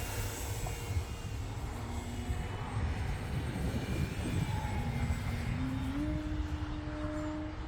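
An Arrows Husky RC model airplane cruising at half throttle in windy conditions, its small engine giving a steady buzzing drone that holds a constant level and rises slightly in pitch toward the end, with wind noise throughout.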